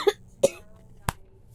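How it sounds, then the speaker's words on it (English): A sick young man coughs three times in short, sharp bursts, the first two close together and the third after a brief pause, heard from a moderate distance with no talking. "Listen to him coughing."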